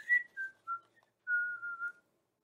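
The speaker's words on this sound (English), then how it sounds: "the wolf sauntered away, whistling to himself." A person whistles a short, descending tune, a few separate notes followed by a longer held phrase, clear and close against silence.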